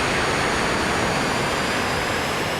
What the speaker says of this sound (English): It's like a little Italian trainer jet.